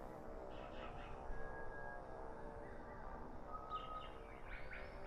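Ambient Amazon jungle birds play in Microsoft Flight Simulator 2020. Faint, distant chirps and brief whistled calls sit over a low steady background hum, with the songs scattered and quiet.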